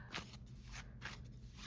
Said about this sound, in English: I'm gonna shuffle on camera so that you guys can see the process